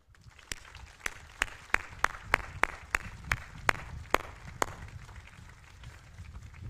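Applause at a 1st Infantry Division change of command ceremony, heard as a dozen sharp, evenly spaced claps standing out over a quiet, distant background, slowing and fading toward the end.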